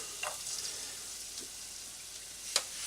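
Garlic sizzles in a tablespoon of oil in a pan for Hainanese chicken rice, a soft, steady hiss with a couple of faint crackles and a sharper tick near the end, quiet and without talking.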